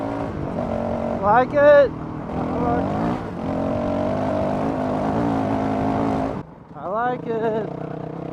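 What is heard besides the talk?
Honda CRF 450 RL motorcycle engine accelerating with Taipan AIM ECU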